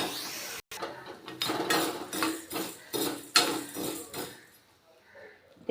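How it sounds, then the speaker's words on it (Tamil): Slightly damp black urad dal dry-roasted in a pan, heard as irregular bursts of gritty clattering and scraping that rise and fade, with quiet gaps between strokes. "நெக்ஸ்ட்டு இந்த உளுந்தையும் வறுத்துக்கலாம்."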